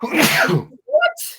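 A single loud, close sneeze bursts out and fades within about half a second, followed by a brief spoken word from another person.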